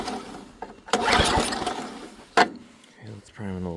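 An Ariens ST524 snowblower engine is cranked with a pull-start, giving short bursts of rough mechanical rasping that fail to catch, close up, with someone talking in between.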